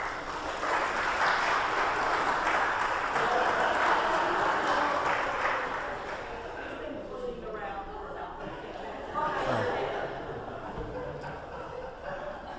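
Congregation applauding inside a church, a steady wash of many hands clapping that swells and then gradually fades, with some murmuring voices beneath.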